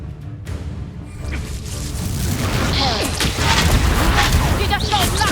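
The Confringo fire spell exploding in Hogwarts Legacy: a rising burst of booming, crackling blasts builds over a few seconds during a fight, loud and close, with voices speaking over the din.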